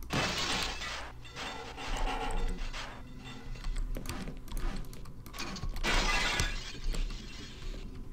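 Objects smashed with a crowbar in the video game Half-Life, several loud glassy shattering crashes spread across the stretch, each with a bright burst of breaking debris, alone without talk.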